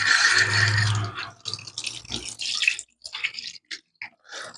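Raw chicken is washed in a bowl with water, with a steady gush of running water at first, then irregular splashing and sloshing as the pieces are rubbed and rinsed, up close and without talking.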